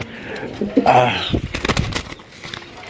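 A domestic pigeon on a breeding farm coos, a short run of soft, throaty calls close by, followed by a few brief rustles.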